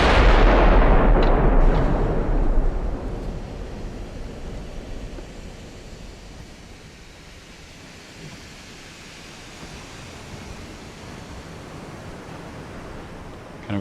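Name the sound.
warship rear guns firing in video game Ultimate Admiral: Dreadnoughts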